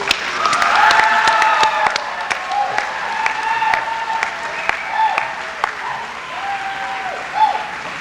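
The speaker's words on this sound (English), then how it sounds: "Grads, please join me in offering a salute of the saber and a round of applause for the people who have helped us" Graduates of a 1993 class give school staff a sustained round of applause at their graduation ceremony: dense, steady clapping from a large crowd for about eight seconds, with voices and a few cheers mixed in.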